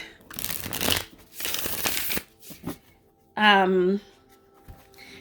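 Tarot cards shuffled in two long, crisp riffling bursts, close and fairly loud, followed by quieter rustles and a short voiced sound from a person.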